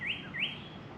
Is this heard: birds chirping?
yes